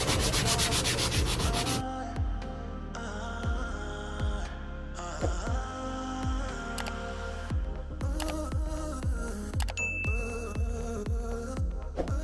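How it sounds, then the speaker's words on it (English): A wooden spoon is sanded by hand against the grain in close, rhythmic rubbing strokes that repeat steadily, with no talk. "Last time I was just sanding like this with the grain. So I'm gonna try to go against the grain like this."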